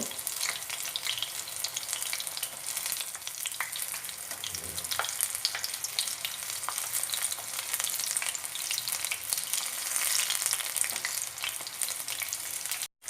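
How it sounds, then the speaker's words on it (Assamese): Battered paneer pakora pieces fry in hot oil and are turned, giving a loud, dense, continuous crackling sizzle with a few faint clinks of the utensil, close up and without talk. "এনেধৰণে পনীৰ কেইপিচ লৰাই দিব"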